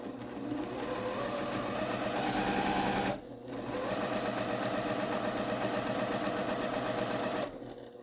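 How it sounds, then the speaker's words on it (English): A sewing machine stitching a quarter-inch seam on patchwork squares runs in a fast, steady close-up whir, pausing briefly partway through before continuing, with no talking. "lower your presser foot and then just stitch away"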